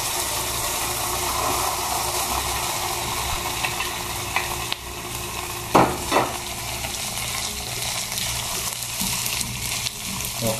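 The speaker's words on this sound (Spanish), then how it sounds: "Vamos a poner a dorar la cebolla por un momento." Onion frying in a pan for Peruvian lomo saltado, a steady broadband sizzle heard up close throughout, with a few louder clanks and scrapes of stirring near the middle.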